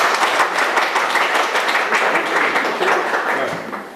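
An audience at a lecture session applauds its chairman with dense, continuous clapping that holds steady for several seconds and then fades out.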